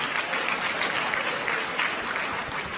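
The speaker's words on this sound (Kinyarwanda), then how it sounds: "aho bari bakoma amashyi" An audience at a Rwandan diaspora gathering applauds, a dense, steady patter of many hands clapping throughout with no pauses.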